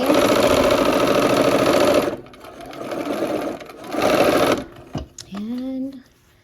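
Sewing machine running a quarter-inch seam on a quilt block, humming steadily up close, slowing and stopping in short spurts, then a brief voice and handling sounds after it stops.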